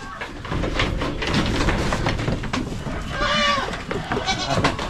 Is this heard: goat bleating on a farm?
yes